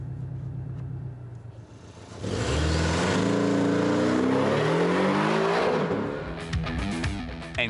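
A Porsche 718 Cayman GTS with a flat-four engine on a race track, idling at first, then revving hard and accelerating through rising gears in a loud, sustained roar that eases briefly near the end.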